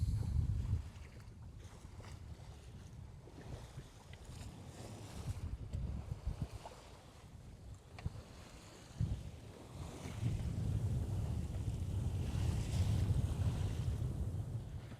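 A cheap project sailboat moves over calm open sea on the banks between Bimini and Andros, with low rumbling wind buffeting the microphone and soft water wash along the hull, swelling in gusts and otherwise steady.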